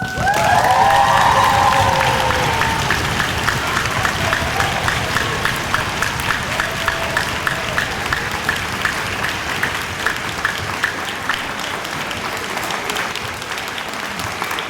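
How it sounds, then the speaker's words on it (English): Loud sustained applause for award winners at a school orchestra ceremony, dense clapping from a large audience with a few cheers at the start, holding steady for the whole stretch. "one more round of applause for our award winner"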